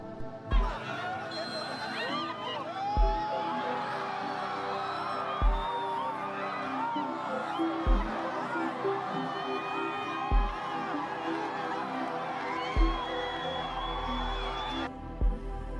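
Students cheer at a school football game, a busy crowd roar of overlapping voices and whoops with a steady rhythmic thump every couple of seconds underneath.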